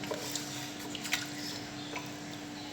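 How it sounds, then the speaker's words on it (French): Water added to a pot of mafé peanut sauce while cooking trickles and drips with small irregular splashes over a steady background hum, close and fairly quiet, no talking. "J'ajoute l'eau, j'attends un peu."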